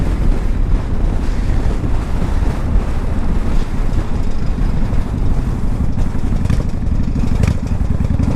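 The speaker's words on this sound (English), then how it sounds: "A little windy." Heavy wind roars across the microphone on a test ride of a 1995 Honda Shadow 1100 cruiser motorcycle, a loud, continuous rushing buffet that almost buries any engine sound.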